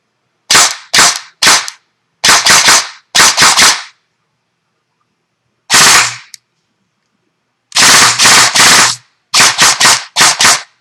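An Echo1 GAT airsoft gun on an 11.1 V LiPo fires in sharp, crisp, loud snaps, with single shots and quick bursts of two to four separated by short pauses.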